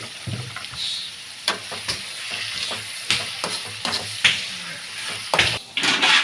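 Ghee rice fried in a pan, a continuous sizzle broken by repeated sharp scrapes and clinks of a spoon stirring, close and clear with a brief bit of speech.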